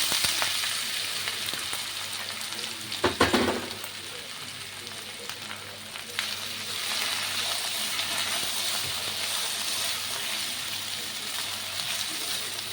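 Potatoes frying in a hot pan give a steady, soft sizzle throughout, with a brief clatter as they are added and stirred early on.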